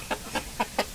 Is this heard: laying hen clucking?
yes